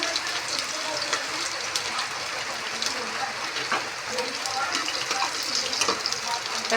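Garlic fries with cumin and whole spices in hot oil for masala rice, giving a steady dense sizzle with scattered crackles, close up and continuous, with a voice faintly present at times.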